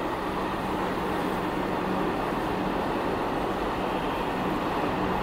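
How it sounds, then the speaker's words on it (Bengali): Kolkata Purple Line metro train pulling into elevated Majerhat station above Diamond Harbour Road, a steady loud rumble and rolling hiss throughout with no voices. "আমাদের মেট্রো এখন ঢুকছে মাঝেরহাট রেলওয়ে স্টেশনে, মাঝেরহাট মেট্রো স্টেশনে।"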